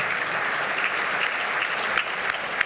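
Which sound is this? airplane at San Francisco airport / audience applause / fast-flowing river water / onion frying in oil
audience applause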